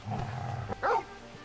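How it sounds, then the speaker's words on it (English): A dog in Final Fantasy XVI gives a single short, close bark or growl amid quiet game ambience and low background tones. "Oh, you can pet the dog!"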